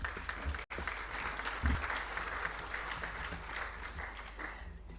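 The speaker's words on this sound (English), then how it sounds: "A round of applause, please." Delegates at a UN peacekeeping ministerial meeting applauding a panelist, a fairly quiet, even spread of clapping from a distant crowd with a low rumble beneath and one brief dropout.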